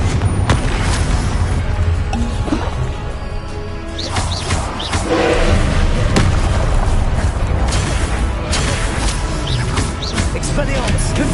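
Booming blasts from the Confringo blasting spell crack through a Hogwarts Legacy battle, several loud explosive bursts and thumps layered over dense fighting noise and game music.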